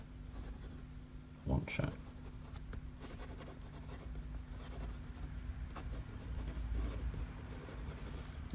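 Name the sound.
fountain pen writing on notebook paper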